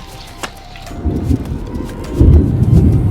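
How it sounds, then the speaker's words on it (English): A low, distant rumble of thunder swells and rolls as a storm moves in over Sandhurst fishery, growing heavier toward the end. "as you can hear in the background, massive storm coming in, thunder and lightning started already"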